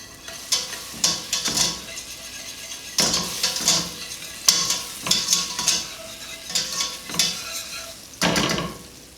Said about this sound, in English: Be sure to move it around while it's in the pot, melting down.